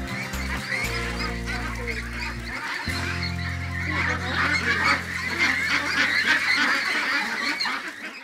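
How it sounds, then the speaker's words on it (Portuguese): Pekin ducks on a Brazilian farm, a dense chorus of overlapping honking quacks from a flock, loud and continuous from start to finish. "essa raça é conhecida como pato de Pequim"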